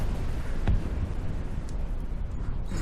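A volcano erupts in the VRChat disaster survival game Rumble: Disaster Survival, a single cannon-like boom thumping out low and heavy over a continuous rumbling bed, followed by faint crackles.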